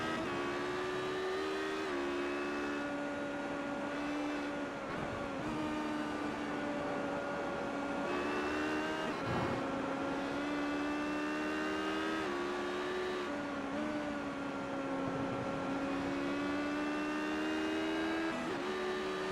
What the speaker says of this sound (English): Morton has got an LMP2 coming up on him in the form of Phil Otto